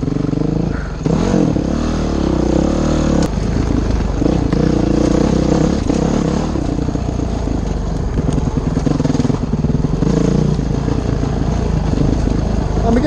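An engine pulls a vehicle up a hill in second gear, droning loud and steady up close with some rattle and clatter, while a voice talks over parts of it.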